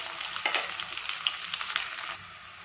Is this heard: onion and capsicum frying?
yes